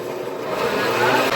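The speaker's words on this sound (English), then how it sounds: "So you have it on blend." A kitchen blender runs with a steady, fairly loud whirring drone that builds slightly and holds without a break.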